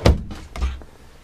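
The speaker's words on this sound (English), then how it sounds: "Silverware drawer." A silverware drawer in a 2015 Roadtrek Zion camper van built on a RAM Promaster, with plywood cabinetry, opens with a single close, hollow thunk followed by a softer wooden knock.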